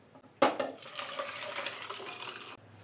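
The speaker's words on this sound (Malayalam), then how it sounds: "കടലയും പൊട്ടാറ്റോയും ഇപ്പോൾ നന്നായി തന്നെ വെന്ത് വന്നിട്ടുണ്ട്. ഇത് ജസ്റ്റ് ഒന്ന് നമുക്ക് ഉടച്ചു കൊടുക്കാം." Cooked chickpeas and potatoes being mashed in a pan for a kadala curry, starting with a sharp metallic clank and followed by steady scraping and squishing against the pan. Nobody speaks.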